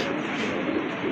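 Pigeons at a club loft give soft, low cooing, a brief murmur of close-by calls with no talk over it.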